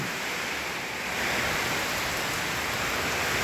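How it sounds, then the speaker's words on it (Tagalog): Heavy typhoon rain pours down steadily, a dense continuous hiss with no pauses or voices. "Lakas ang ulan."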